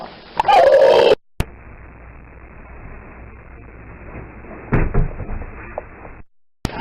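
A dog whimpers and whines in a burst of high-pitched cries, followed by a sharp knock, a stretch of quiet room tone, and a second brief whine or shuffle close by.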